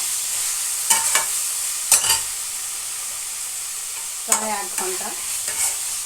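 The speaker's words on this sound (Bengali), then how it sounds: "যে চিকেনটা ম্যারিনেট করে রেখেছিলাম সেটা আমি দিচ্ছি।" Marinated chicken sizzles steadily in a hot pan with a bright continuous frying hiss, broken by a few short scraping stirs of a utensil, close up and with no talk.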